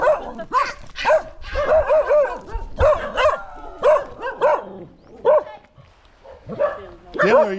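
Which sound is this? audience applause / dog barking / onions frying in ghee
dog barking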